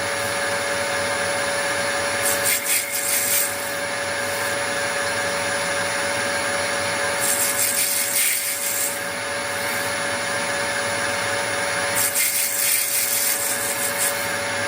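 A restored Harrison lathe runs at about 600 rpm with a steady whine and hum while it cuts a chamfer on a bronze Acme nut blank. Three brief bursts of harsher cutting noise rise over the constant drone.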